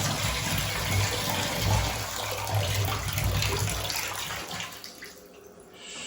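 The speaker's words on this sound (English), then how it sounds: "We can test our bath taps." Bath taps running into a bathtub after a bathroom radiator swap, a strong continuous gushing rush of water close by that eases and thins out toward the end, with no talking.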